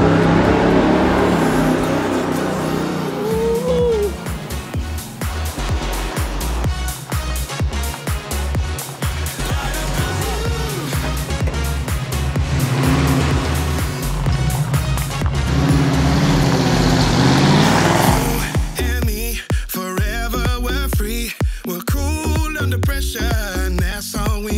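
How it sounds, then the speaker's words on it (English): A pumped-up muscle car engine runs loud and close at a music video shoot, a dense continuous rumble that swells and surges for over twenty seconds before choppier bursts near the end. "So it's like a pumped up muscle car. And we're just waking up the neighbours."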